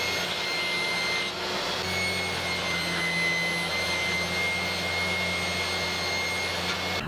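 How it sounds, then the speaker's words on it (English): A power saw cutting 1/4 inch Baltic birch plywood to size in a woodworking shop, a loud steady motor whine with a hum that shifts in pitch partway through as the blade works the sheet, no voices. "I'm going to use some 1/4 inch baltic birch plywood for the bottom. First, I need to cut that down to size as well."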